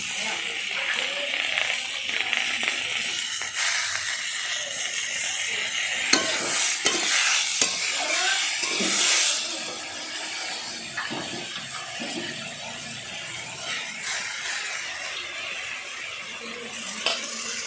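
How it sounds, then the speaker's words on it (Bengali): Vegetables fry in a pan, then washed red lentils are stirred in for an Indian dal dish with fish head. A loud, close, continuous sizzle carries the scraping and clattering of a spoon stirring against the pan. "এবারে সবজিটাকে আমি একটু ভাজা ভাজা করে নিচ্ছি"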